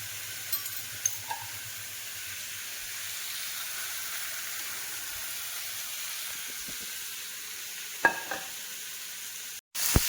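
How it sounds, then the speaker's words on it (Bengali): Taro leaves frying with salt, turmeric and green chilli, giving a soft steady sizzle and hiss with a few faint scrapes of stirring and no talk. "এখন আমি এটা বারবার নাড়তে থাকবো"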